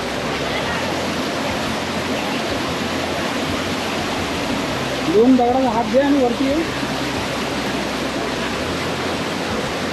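Chinchoti waterfall rushing nearby in the forest, a loud continuous broadband roar of falling water, with a voice briefly speaking over it midway.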